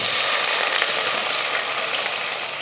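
Spices and onions fry in hot oil in a pressure cooker while a biryani is being made: a steady, close, broadband sizzle with faint crackle that holds level throughout.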